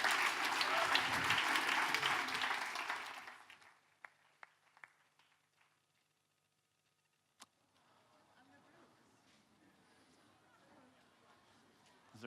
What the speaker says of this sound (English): Please, round of applause to welcome Seth Bannon to the stage.